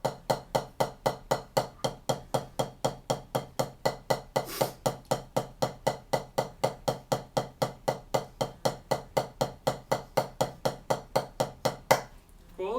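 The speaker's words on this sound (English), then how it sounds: "grab your sticks, grab your pad, go ahead and drum along" Drumsticks on a practice pad play a steady stroke exercise, about forty crisp, even taps at a fast, regular pulse, close and fairly loud, with no other sound until a brief scuff at the end.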